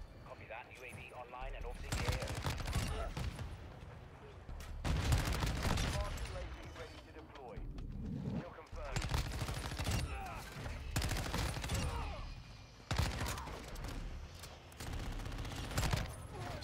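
Bursts of Chimera assault rifle fire in Modern Warfare II, several loud sustained volleys separated by short pauses, close and dominant, with occasional game radio chatter.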